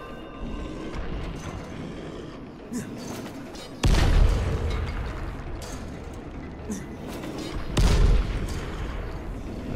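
An exploding throwing star in the zombie game Dying Light goes off in heavy booming blasts, two loud thuds with rumbling tails amid faint background action.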